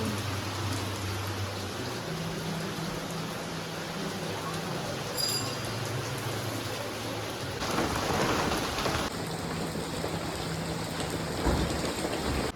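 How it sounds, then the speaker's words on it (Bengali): Steady rain pours outside and is heard from indoors, with low rumbles of thunder beneath the constant hiss, fairly quiet and unbroken throughout. "বাইরে কি বৃষ্টি"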